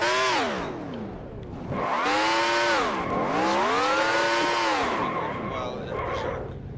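A 2500hp race car engine in the NASCAR Racing 2003 video game revs up and down in several rising and falling sweeps, loud and whining, heard alone without talk.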